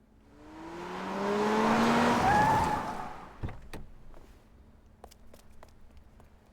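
A car driven in the video game AI Somnium Files swells in with a rising engine whine and tire hiss, peaks, then fades, followed by a few sharp clicks and knocks.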